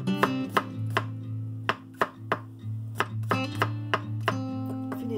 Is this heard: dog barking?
no